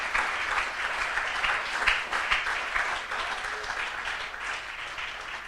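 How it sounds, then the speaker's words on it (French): An audience at a 2012 church camp in Vaumarcus, Switzerland, claps in a dense, sustained burst of applause lasting several seconds, with no speech over it. "Put your hands together for Jesus."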